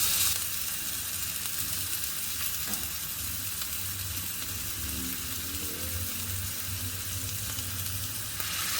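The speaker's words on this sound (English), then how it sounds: "We are going to start off by browning the ground beef." Ground beef browning in a frying pan gives a steady, dense sizzle that runs unbroken throughout, loud and close, with faint occasional stirring underneath.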